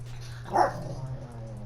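One brief dog bark, slightly muffled and moderately close, against a quiet background hum.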